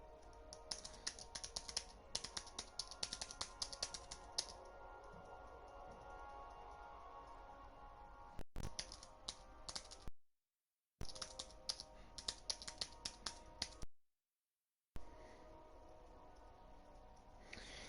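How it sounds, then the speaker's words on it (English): Quiet, steady typing on a Bluetooth keyboard, a close run of light key clicks at an even pace, broken by two short gaps of silence. "The only trouble with Bluetooth keyboard is that when you're typing frequently, some of the digits don't register"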